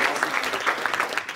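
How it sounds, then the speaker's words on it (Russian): Brief burst of audience applause in a hall, dense clapping from a crowd, loud and steady for just over a second. "а мы очень дружно аплодируем, как себе"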